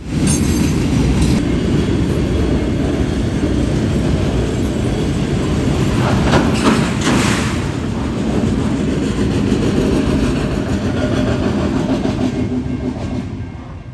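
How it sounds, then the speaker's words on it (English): An NS freight train rolls east in the evening, a loud steady rumble of railcars with clickety-clack and occasional wheel squeal running throughout, fading slightly at the end. "we see NS 178 rolling east under a beautiful evening sky"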